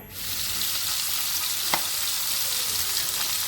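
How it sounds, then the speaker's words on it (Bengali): Lentils sizzle loudly and steadily in hot oil, a continuous hiss with a single brief clink partway through. "এই যে ডাল তেলে দেওয়া হচ্ছে"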